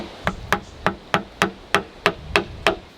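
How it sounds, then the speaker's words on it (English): A chisel struck with a mallet cuts off bamboo joints for a camper frame: nine sharp, evenly spaced knocks, about three per second, close and crisp, with brief ringing after each blow and no talking. "So now I can chisel these off"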